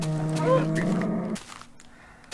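Cow mooing in a video game, one long low moo for over a second, then a quiet backdrop.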